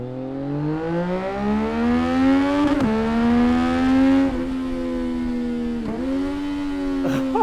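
A CFMOTO 675 SS motorcycle fitted with a Yoshimura exhaust revs up loud and close, its rising whine climbing through the gears with sharp quickshifted upshifts, alone without talk.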